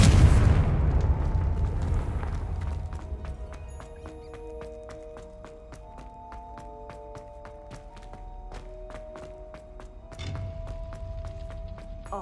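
A Confringo blasting spell goes off in Hogwarts Legacy on PC, a loud low boom that rolls into a long decaying rumble under game music, with a second smaller thud later.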